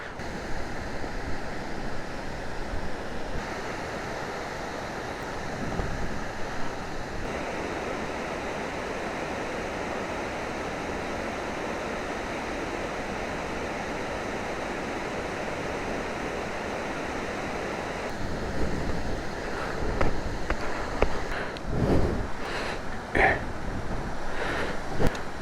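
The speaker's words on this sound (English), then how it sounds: "but man, what a waterfall." Steady roar of rushing water, a continuous broadband wash that stays even throughout, with some louder splashing bursts near the end.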